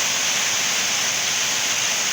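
Heavy rain pours down steadily on a house, a dense, continuous roar of water with no pauses, loud and close throughout.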